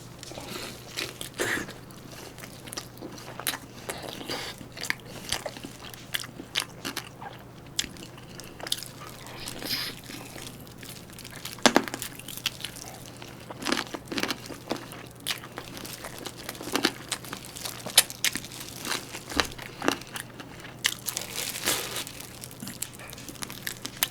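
Marinated BHC Malakan chicken, sticky and sauced rather than crispy, is eaten up close, with irregular soft bites, wet chewing and crinkling sounds spread throughout at a quiet level.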